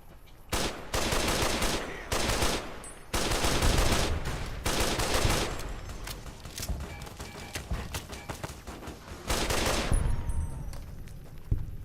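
Repeated bursts of gunfire from a weapon in Fallout New Vegas, loud and close, firing in clustered volleys with short gaps between them over a continuous game soundscape.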